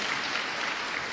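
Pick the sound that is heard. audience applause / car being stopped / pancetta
audience applause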